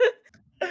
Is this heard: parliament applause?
no